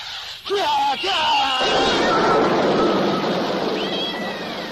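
Cats meow and caterwaul loudly as a radio drama sound effect, starting with a few distinct yowls and then swelling into a dense, continuous chorus of overlapping cat cries.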